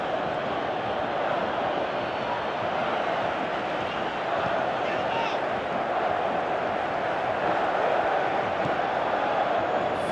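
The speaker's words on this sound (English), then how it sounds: "Crowd calling for him to shoot." Stadium crowd in PES 2018 football match roars and calls out continuously, a dense steady wash of many voices at moderate level over ten seconds, with commentary faintly mixed in.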